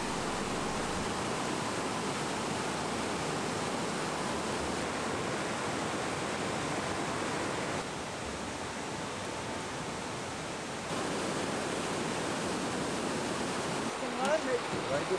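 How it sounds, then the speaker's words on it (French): Pure mountain torrent rushing through a deep three-kilometre gorge cut into a jagged mountainside, a steady broadband roar of water that continues without pause, with faint voices briefly at the end. "La gorge, qui entaille le flanc déchiqueté de la montagne sur 3 km, est parcourue par un torrent aux eaux très pures."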